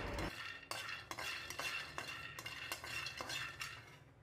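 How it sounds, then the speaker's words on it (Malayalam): Almonds and peanuts dry-roasting in a pan, stirred with a utensil that scrapes and clinks against the metal in a steady run of close strokes, with no talking. "ഇനി ബദാമും കപ്പലണ്ടിയും നല്ലതുപോലെ വറുത്തതിന് ശേഷം"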